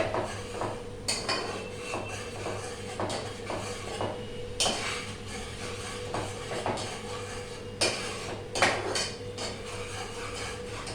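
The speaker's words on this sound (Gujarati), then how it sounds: "આપણી પેસ્ટ આપણે 2-3 મિનિટ માટે સોટે કરીએ." A tomato and gram flour paste is sautéed in a pan for dudhi kofta curry, with a low frying hiss under repeated sharp metallic knocks and scrapes of a spoon against the pan.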